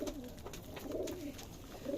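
A small male racing pigeon coos nearby in soft, rolling low calls, repeating in quick succession, with faint background noise.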